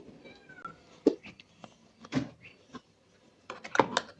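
A cat meows a few times at close range, short bursts separated by quiet gaps, with faint household clatter behind.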